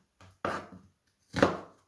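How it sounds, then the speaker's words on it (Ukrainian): Two or three sharp knife chops through an onion on a cutting board, close and distinct, separated by short pauses. "І наріжу також цибулю."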